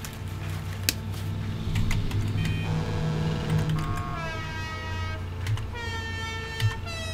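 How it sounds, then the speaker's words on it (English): A standard truck horn on a Red Kanjo car in GTA 5 Online, tested in a few short honks separated by gaps, over quiet background music. "Standard truck horn."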